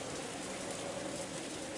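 Steady rain pours in the Umineko visual novel game, a dense, even hiss of falling water that continues without a break, with no speech over it.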